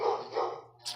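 A dog gives a couple of short barks close by, one sharp yelp standing out near the end.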